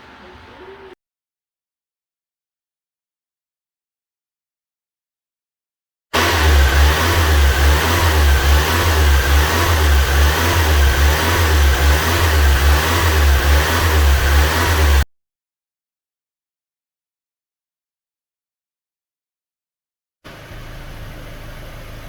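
A car engine runs loud and steady for several seconds, then cuts off abruptly, surrounded by silence.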